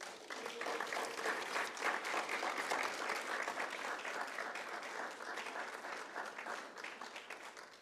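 An audience at an author event for a book on democracy greets the panelists with sustained applause, a dense, even patter of many hands that swells early and slowly tapers, with faint cheering in the mix.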